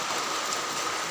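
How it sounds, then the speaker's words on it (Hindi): Heavy rain falls at dawn on the mountain road beyond Fata toward Kedarnath during the rainy season, a dense, steady hiss with no voices. "बहुत तेज़ बारिश हो रही है रात से"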